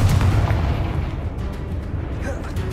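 Spell explosions and fiery blasts from combat in the Hogwarts Legacy video game, a dense run of booming bursts over a rumbling low roar, loud and close throughout.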